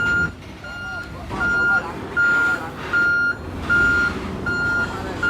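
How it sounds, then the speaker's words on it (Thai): Large heavy-duty crane truck with many big wheels, rated around a hundred tons, arriving at a hilltop temple, giving a string of steady reversing beeps over its idling engine, with a voice talking nearby. "รถเครนที่เราจะ นำมา ยกเหล็กไวแฟงขึ้นมาแล้วนะ"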